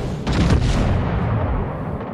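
Heavy ship guns in World of Warships boom in a loud, close salvo with a rumbling low tail, then a sustained roar of battle noise fading gradually.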